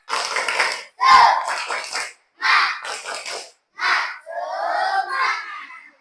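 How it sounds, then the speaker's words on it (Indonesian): Schoolchildren in a classroom do a rhythmic spirit clap chant, shouting together in short loud bursts with pauses between, ending in a longer group shout, close and energetic. "Tepuk semangat dong."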